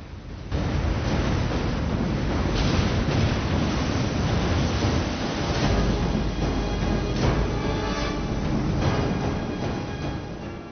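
Loud, continuous roar of ocean waves and surging water from a flooding scene in the film The Day After Tomorrow, with wind-like rushing noise throughout and no speech.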